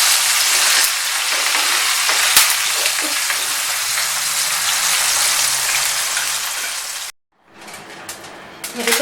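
Chicken drumsticks fry in a pan with a steady, dense sizzle and crackle close up, broken by a brief drop to near silence before the spitting resumes.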